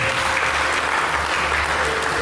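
A church congregation applauds during a Sunday service, a loud, thick and uniform roar of clapping that fills the short stretch from start to finish with no voice above it.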